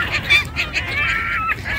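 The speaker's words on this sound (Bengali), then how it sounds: "আব্বু এই যে পাখিগুলোকে খাওয়াচ্ছে, এনজয় করছে" Geese and other fowl honk repeatedly while being fed by hand, a close, busy run of overlapping nasal calls with no speech.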